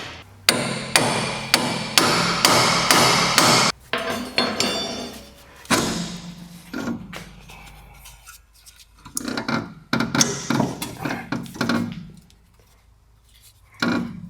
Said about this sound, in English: big piece of iron and then a big hammer, and just whack it out of there.